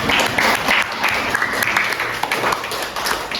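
An audience bursts into steady, dense applause that holds at full strength throughout, with a faint murmur of voices mixed in, in a classroom chemistry lesson.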